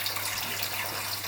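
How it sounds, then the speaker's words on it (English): Water from a homebrew setup's integrated chiller pours steadily out into a drain, a continuous close rushing flow with no pauses and no voices. "the water is just coming back out and going in the drain"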